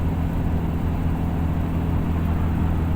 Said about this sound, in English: use the engine brake.